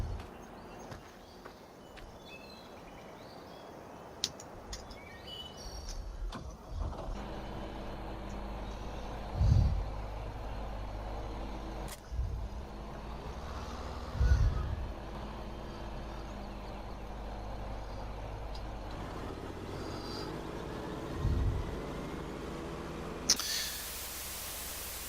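A John Deere tractor engine in the Farming Simulator 2015 game, a low steady drone running most of the time with occasional revving surges and clunks, mid-distance.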